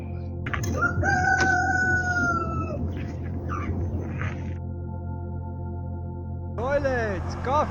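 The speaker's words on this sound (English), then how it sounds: "Three roosters." Roosters crow near a surf beach in Tasmania, one drawn-out call early and another rising crow near the end, over constant rumbling surf and wind.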